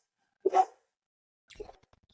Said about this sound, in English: There's my puppy.